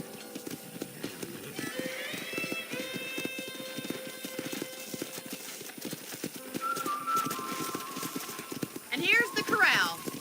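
Horse hooves clip-clop in a steady trot on a ranch in the video game Red Dead Redemption, under someone speaking throughout, with a whistle and a horse's whinny near the end.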